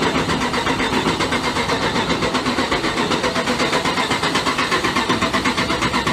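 A Dodge Ram 1500 Hemi V8 cranks over on a cold spring start-up, a close, loud rapid rhythmic churning of the starter that continues throughout without clearly catching.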